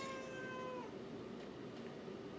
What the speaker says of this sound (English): My little black cat's trying to tell me I'm doing it right or wrong